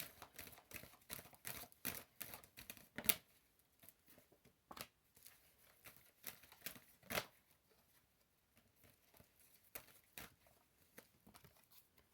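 Tarot cards pulled from a deck and handled close by, soft papery flicks and slides coming in scattered quick bursts with quiet pauses, faint and alone without any talk.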